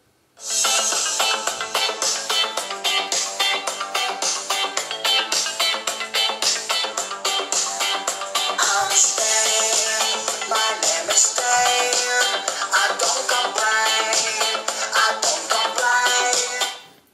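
Bright, busy music plays continuously through the small, tinny speaker of an HTC Butterfly S smartphone, full and loud from start to finish with no voices.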